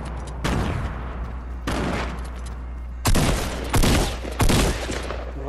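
Gunfire in the Fortnite battle royale game, five loud bursts of rapid shots spaced a second or so apart, each a dense crackling volley over a steady low background hum.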